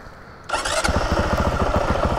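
A new motorcycle engine fires up after a quiet moment, then settles into a loud, close, steady pulsing idle with rapid regular chugging beats.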